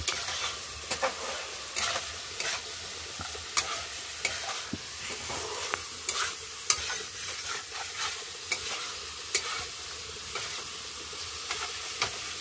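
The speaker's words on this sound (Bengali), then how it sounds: "আমি এখন মশলাগুলোকে ভালোভাবে লাল লাল করে কষে নিচ্ছি।" Spices being stirred and fried in a pan for hilsa fish curry, a constant close sizzle with repeated scraping strokes of a spatula at an irregular rhythm, with no talking.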